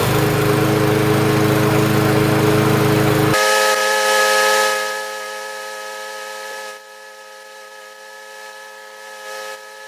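A Yard Machines push mower, freshly tuned up, runs loud at first with a heavy low drone, then shifts to a higher, thinner idle with steady whining tones that fade slightly and hold alone.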